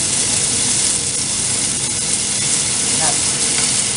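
Beef strips sizzle steadily in a hot frying pan, a dense even hiss of frying fat that stays constant throughout, with faint stirring under it.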